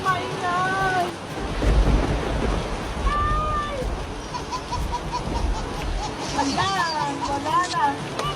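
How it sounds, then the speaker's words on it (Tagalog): Thunder rumbles low during a heavy rainstorm, with a deep roll early on over a constant wash of rain. Several people talk and call out nearby. "dali may kulog."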